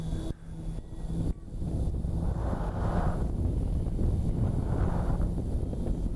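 Steady wind gusting across an open unprepared runway near a hill, a broad continuous rushing roar with buffeting against the microphone and brief dips early on, loud and close throughout with no talk.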